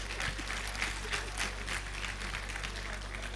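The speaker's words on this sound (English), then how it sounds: "So clap for yourselves." An audience applauds at a university induction and oath-taking ceremony, a faint, steady wash of scattered claps over a constant low hum, heard from a distance.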